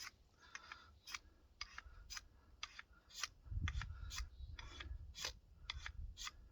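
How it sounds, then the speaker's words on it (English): A knife edge scraping the coating off a cheap ferro rod outdoors in sub-freezing winter makes faint, quick rasping strokes, repeated at an irregular rhythm, with a brief low rumble partway through. "cheapo ferro rod. First, I got to scrape off this coating."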